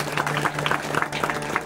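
An audience claps for a devotional mandal at a religious gathering, a brief burst of scattered applause with a steady background hum.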